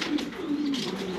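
A pair of Afshan grizzle pigeons coos nearby, a low, rolling burble repeated in short overlapping phrases, fairly loud and close with no talking.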